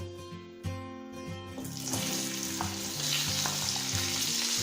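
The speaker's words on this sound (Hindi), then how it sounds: "और इसे हम मीडियम लो फ्लेम पे हल्का गोल्डन होने तक फ्राई कर लेंगे।" Boiled potatoes drop into hot oil over a medium-low flame, setting off a steady, close sizzle that builds after a second or two and continues under sustained musical tones.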